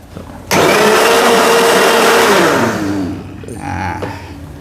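A blender loudly grinds garlic and spices for a dumpling seasoning paste, a steady high whirring roar that winds down after a few seconds, followed by a brief lighter burst of motor noise.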